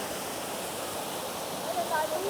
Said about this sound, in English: Bokong waterfalls